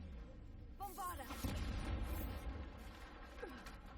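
A Bombarda blast spell in Hogwarts Legacy goes off as a deep booming explosion with rumbling low-end debris, layered with game effects and a brief voice, then settles into a lingering roar.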